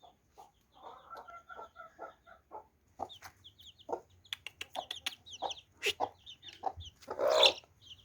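Village chickens cluck close by in short, uneven bursts, several birds overlapping, with a louder squawk near the end.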